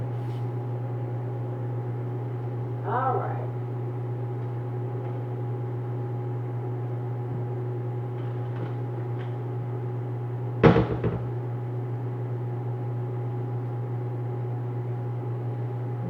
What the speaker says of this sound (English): we've got our ramen noodles cooking in the microwave for 3 minutes